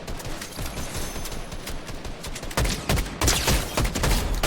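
Gunfire in the video game Fortnite, a dense stream of rapid shots that grows louder and heavier toward the end, with no talking over it.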